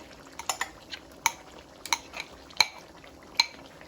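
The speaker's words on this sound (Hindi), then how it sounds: "इसे अच्छे से मिक्स कर लेते हैं और इसको हम थोड़ी देर के लिए भून लेते हैं।" Onion, yogurt, poppy seed and coconut paste stirred into masala in a pot for Firozabad naan gosht, with a spoon giving scattered scraping clinks against the metal, several sharp taps close by and no talking.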